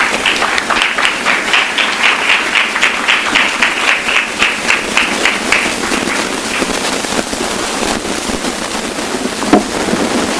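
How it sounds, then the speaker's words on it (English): An audience at a bookstore talk gives a warm round of applause welcoming Pat Morrison, loud steady clapping that thins out toward the end. "Let's please give a warm round of applause for Pat Morrison."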